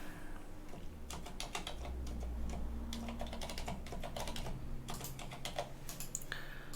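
Rapid key presses on a computer keyboard as a complex password is typed in during a Linux installation, a close, continuous run of clicks over a low steady hum.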